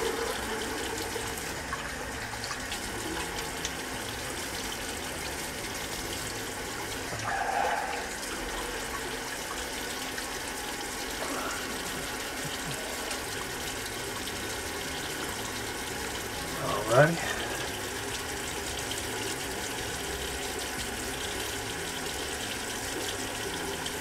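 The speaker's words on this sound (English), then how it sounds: "Cold water rinse." Cold tap water runs steadily from a faucet to rinse a shaving brush, a low continuous gush with a couple of brief splashes, fairly faint and with no talking.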